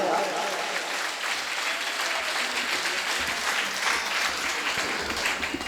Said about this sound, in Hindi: अच्छी ताली बजाओ यार।